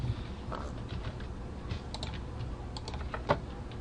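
Keys tapped on a computer keyboard in a steady run of light clicks with a firmer press near the end, close and alone with no talking over it.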